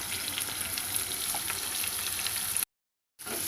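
Chopped onions and green chillies fry in a pan for a cluster beans stir-fry, giving a steady, close sizzle with faint stirring scrapes, then a short silent break before the frying resumes.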